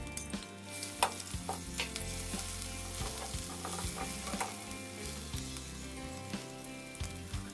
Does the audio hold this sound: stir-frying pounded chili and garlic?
yes